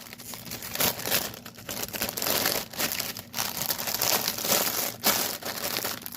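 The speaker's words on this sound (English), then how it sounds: "There'll be crinkling." Crinkling packaging of a cross stitch kit being handled close up, with irregular bursts of crackling plastic that come and go over several seconds; no talk.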